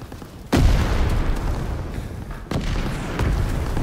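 Artillery guns pounding a beachhead in Call of Duty: WW2, two heavy booming blasts a couple of seconds apart over a loud, rumbling battle din.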